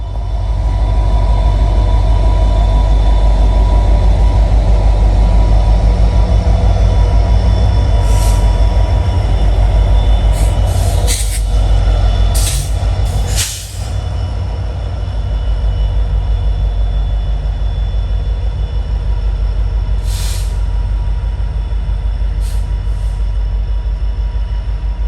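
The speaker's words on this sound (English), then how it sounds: "these two former UP SD 9043 Max head back east to Altoona for their next assignment" Two former Union Pacific SD9043MAC locomotives heading east toward Altoona in Pennsylvania pass close by with a loud, continuous diesel roar and rumble that fills the whole stretch, with brief higher screeches and hisses mixed in.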